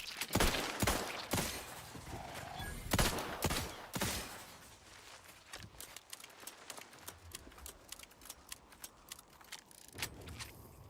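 Revolver gunfire in a video game: a burst of loud, sharp shots in quick succession, then quieter clicks and mechanical reload rattles.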